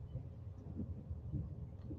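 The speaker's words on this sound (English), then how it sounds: "Oh, y'all hear that thunder?" Distant thunder rolls low and muffled ahead of approaching storms, a quiet continuous rumble with soft swells and no other sounds over it.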